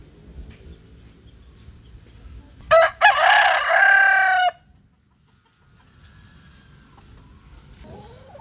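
A stag rooster crows loudly and close, one drawn-out call after a short burst of clucking, with quiet farmyard background before and after.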